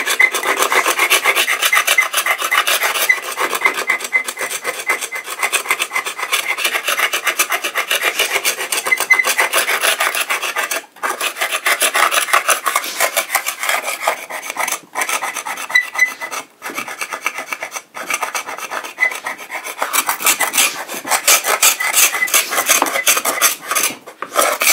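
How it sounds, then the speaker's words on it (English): Hand scraper stripping old shellac off an antique wooden cabinet, a loud, continuous rasping scrape repeated in steady strokes with a few brief pauses, close up and without talk. "You notice I don't try and use the full width of the scraper."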